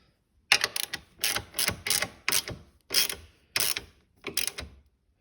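Ratchet wrench tightening bolts on the rear rack of a Honda Navi: seven separate bursts of rapid clicking, each roughly half a second long, with short pauses between them, close and fairly loud.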